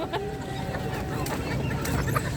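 Hens cluck among the stalls of a poultry market in Płońsk, steady close calls under a busy mix of voices and market bustle.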